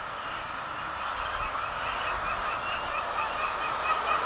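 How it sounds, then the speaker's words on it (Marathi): Chickens at a poultry farm, a soft, steady murmur of clucking and calls from many birds at a moderate distance, with no speech. "आता तुम्हाला कोंबड्यांची पॉटरी दाखवतो"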